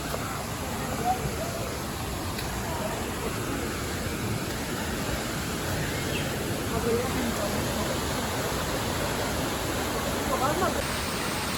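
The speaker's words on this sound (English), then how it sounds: "So I found the waterfall." A waterfall on a river hike near Puerto Vallarta, Mexico, gives a continuous, even roar of rushing water that stays loud and unbroken throughout.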